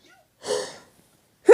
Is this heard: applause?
no